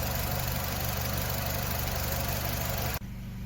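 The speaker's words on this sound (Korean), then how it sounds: "우선 예열을 해서 엔진 온도를 올립니다" A Renault QM5 with a 2.5 gasoline engine idles steadily while warming up, giving a close, even, constant hum that drops abruptly near the end.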